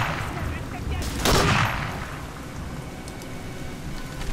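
A single SVT sniper rifle shot cracks out loudly and briefly, set against steady rain-like game ambience during the Berlin level of Medal of Honor Allied Assault: Spearhead.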